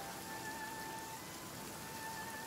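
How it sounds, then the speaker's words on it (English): Steady rain falling across an open landscape in the video game Genshin Impact, a constant soft hiss of drops with faint tonal lines from the game's ambience, even and unbroken throughout. "It's raining again."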